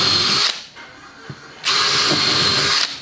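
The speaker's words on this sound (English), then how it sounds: "use that one as a template to drill out the rest of them" A power drill bores holes through plywood sheets while building a miter saw station, whining loudly in two sustained bursts separated by a brief quieter gap.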